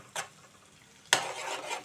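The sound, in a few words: stir-frying gooseberries and green chillies in a pan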